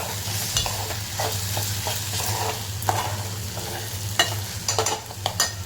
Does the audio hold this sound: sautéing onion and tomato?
yes